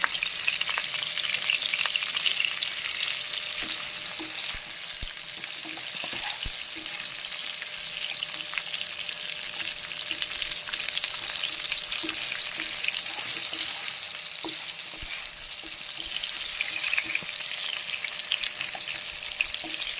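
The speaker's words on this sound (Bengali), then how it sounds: "লাল করে আমি আলুটাকে ভেজে নিই" Potatoes fry in a pan, sizzling in a continuous, dense crackle with scattered pops, close and steady from start to finish with no talk.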